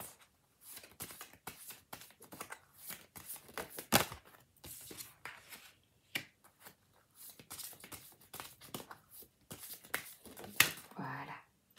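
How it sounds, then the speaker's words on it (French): Cards shuffled and drawn by hand for a tarot-style reading, a dense run of quiet riffling clicks and papery slaps with brief pauses, close and soft, with no talking. "Je prends 3 cartes."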